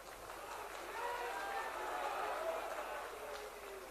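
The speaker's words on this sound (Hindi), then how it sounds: "आपकी तालियां बता रही हैं।" A crowd applauds at a political rally in West Bengal, a dense, distant-sounding wash of clapping that swells slightly and holds steady, faint overall.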